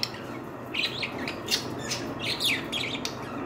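Budgerigars chirping at their nest, a series of short, bright squawks and tweets in close bursts over a low background hum.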